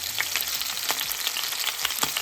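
Vigorous sizzling of frying vegetables for Ukrainian borscht, a loud continuous crackle with scattered sharp pops throughout, heard alone and close up.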